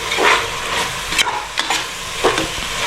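Spice powders, fenugreek and coriander, stirred and frying in a pan for Karnataka-style tomato bath, giving a steady soft sizzle broken by a few sharp scraping strokes of the spoon, close by with no voices.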